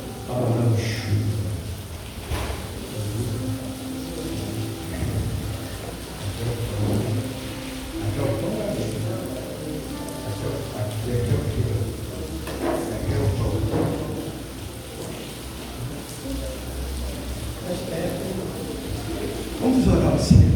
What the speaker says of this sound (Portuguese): Deus está mandando chuva.